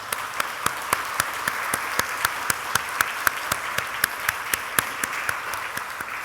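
A church congregation applauds a bereaved family with steady, evenly paced clapping that keeps a regular beat. The sound is moderately quiet and carries on without any talking.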